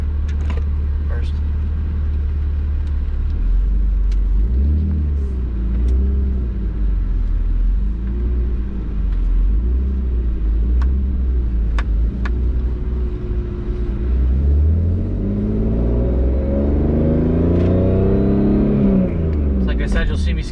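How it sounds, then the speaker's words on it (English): A 2001 BMW 330xi is driven with a loud, close cabin engine drone that rises and falls through several revs and gear shifts, while a voice talks over it. "I love driving this car around. Shifting gears is fun as well."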